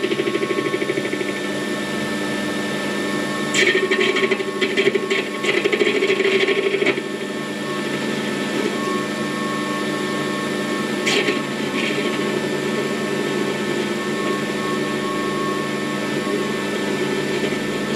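Warco WM180 metal lathe turning a steel workpiece at a 0.5 mm depth of cut, a steady mechanical whir with a faint scraping tone and a few brief higher chattering bursts, close and continuous throughout.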